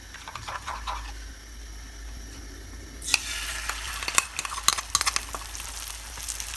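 Eggs frying in a pan in a home kitchen in the dark, a steady crackling sizzle that swells loudly partway through and then carries on with sharp pops and spits, close up and with no talking.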